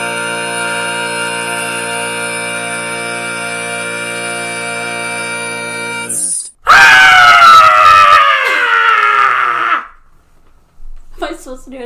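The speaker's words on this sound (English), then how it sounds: "That was such a good scream." A person on a horror-writing podcast lets out a loud horror-style scream lasting about three seconds, with a falling pitch, after a long steady droning tone. A few brief faint sounds follow.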